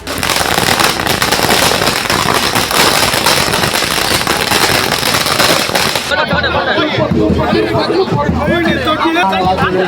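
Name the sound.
firecrackers bursting at welcome for election candidate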